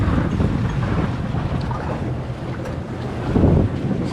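A fishing boat pushes through rough waves on Lake Erie, with a steady, loud rush of water and hull noise under heavy wind buffeting on the microphone, swelling briefly near the end.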